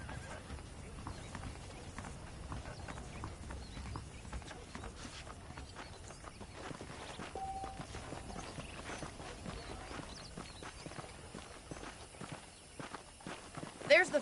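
Horses plod along at a walk in the Red Dead Redemption video game, hooves clip-clopping steadily under continuous ambient noise, with a brief whinny and a louder thump near the end.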